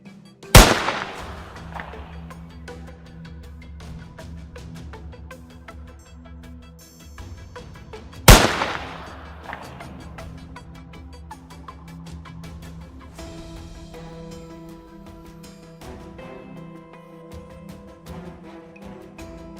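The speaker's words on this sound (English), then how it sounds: "Gunshots echo across the landscape, cutting off the boar's escape" Two sharp gunshots ring out during a wild boar hunt, each a loud crack followed by a rolling echo across open landscape, spaced several seconds apart over steady low background.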